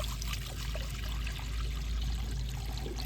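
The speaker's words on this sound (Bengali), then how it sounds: "কড়ার মধ্যে ঠিক অল্প করে জল দিয়ে দেব" Water poured a little at a time into a cooking pan for steaming amla, a steady trickling splash running continuously and close by, with no voices.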